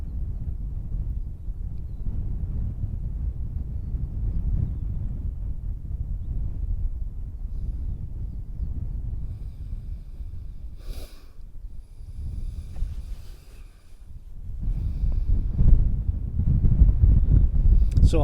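Strong wind buffets and roars steadily during a DJI Mini 2 drone flight, a dense low rumble that dips briefly midway before surging back.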